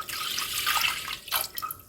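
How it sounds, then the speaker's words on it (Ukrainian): About 300 ml of milk pours into a saucepan for a strawberry milk dessert, making a steady, close liquid splashing sound that runs for just under two seconds and trickles off at the end. "Беремо 300 мл молочка. Переливаємо в сотейник"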